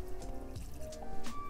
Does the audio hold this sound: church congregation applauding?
no